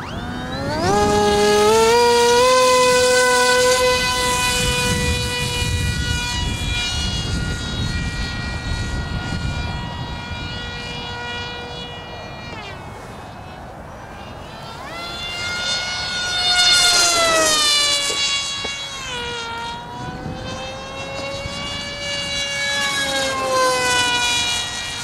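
A small RC jet plane engine screams loudly as it flies past, its whine rising and falling in pitch as it approaches and moves away.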